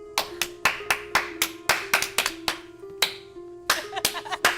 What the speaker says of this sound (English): Can I slow clap that?